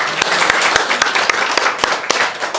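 A crowd applauds steadily, dense clapping filling the space with a few sharper claps standing out, fairly loud and close, during a Korean church Sunday morning worship service.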